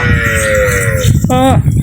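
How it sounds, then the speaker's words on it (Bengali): Cattle in a grazing field give a drawn-out low moo followed by a shorter harmonic call, loud and close over a steady rough background. "হ্যাঁ দেখ ভাই গরু"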